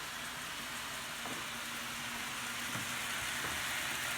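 Meat browns in a pan with cumin and garlic salt, making a steady, close sizzle and crackle. Soft scrapes from stirring come and go under the frying, and there is no talk.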